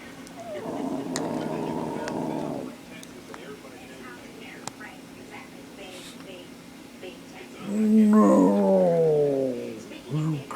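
A beagle puppy growls and snarls up close in two long bouts, the second louder and rising into a whiny howl, with a person's voice heard faintly between them.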